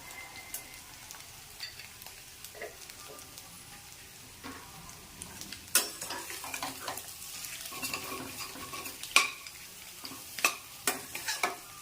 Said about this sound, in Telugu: మొత్తం తిప్పేసుకున్నాం కదా ఎగ్స్ ఇదంతా మసాలా పట్టిందంతా తిప్పుకున్నాం కదా